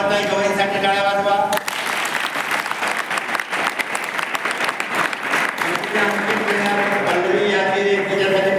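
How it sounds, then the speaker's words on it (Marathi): Audience clapping steadily for Lady Governor Kamaltai Gavai at a Mission IAS event, a dense, loud burst of applause that starts after a speaking voice and runs throughout, with the voice returning near the end. "लेडी गव्हर्नर कमलताई गवईसाठी टाळ्या वाजवा"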